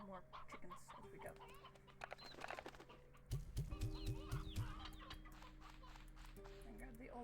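Chickens in the video game Slime Rancher 2 clucking in short bursts, with a cluster of louder clucks midway, under steady game music while a person talks over them.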